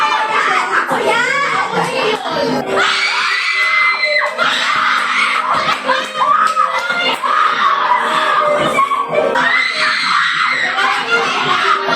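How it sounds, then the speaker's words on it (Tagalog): A group of young people screams and shouts together at a lively staycation party, loud overlapping shrieks rising in several bursts over excited chatter, close and energetic throughout. "Tapos na kaming sisigaw-sigaw."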